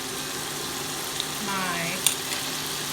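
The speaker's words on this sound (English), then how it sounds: "we are going to add our minced garlic and ginger and mix it up with the onions" Minced garlic and ginger frying with onions while being stirred, a steady close sizzle with brief scraping of a utensil in the pan and no talking.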